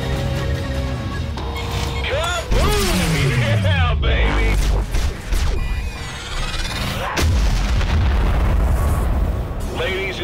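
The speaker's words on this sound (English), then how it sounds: "we're no longer under enemy fire" Space combat from the video game Galaxy on Fire 3: Manticore, with loud, dense enemy fire and booming explosion-like blasts running almost continuously, mixed with swooping effects and a voice.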